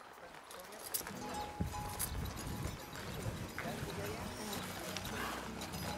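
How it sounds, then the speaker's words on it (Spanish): Horse hooves beat on the ground at a horse breeding farm as the animal is eased into a gallop, a steady muffled drumming under a man's spoken instructions. "Sáquelo galopando ahora, suavecito."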